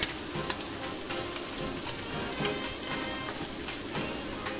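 Onions and garlic fry in a pan with a continuous light sizzle and a few sharp pops at the start, close and moderately quiet, with no voices.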